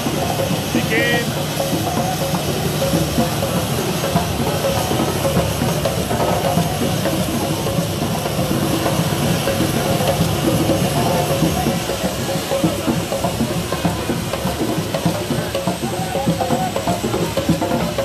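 Kenya Airways airliner just landed at an international airport, its jet engines giving a steady, loud roar and hiss that fills the whole stretch without letup, with faint voices underneath.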